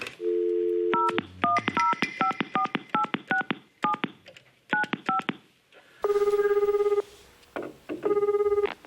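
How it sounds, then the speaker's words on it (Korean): Rapid series of touch-tone dialing beeps, short paired tones in quick bursts, followed by two long ringback tones, clear and close with no talking. "바로 좀 전화 연결해 볼게요."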